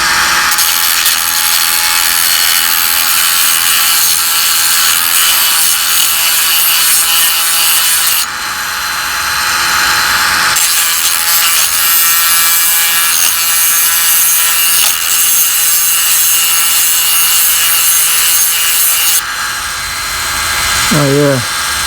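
Hedge trimmer blades are sharpened without files, producing a loud, close, harsh abrasive grinding roar that runs continuously, with a short pause midway and a brief squeal near the end.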